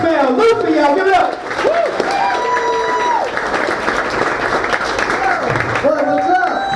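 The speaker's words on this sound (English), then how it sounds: "Start clapping your hands." An audience claps and applauds steadily to welcome a comedian on stage, a dense continuous wash of hands with a voice talking loudly over it throughout.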